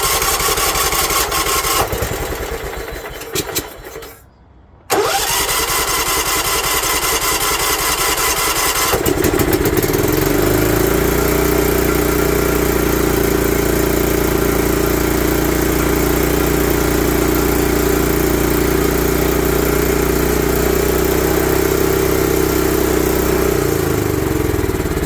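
An old barn-find John Deere LT150 lawn tractor, left sitting for years, cranks and catches, then settles into a steady, loud, close single-cylinder idle that runs unbroken for several seconds, with no talking.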